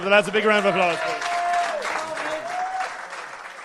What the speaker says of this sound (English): give the lads a big round of applause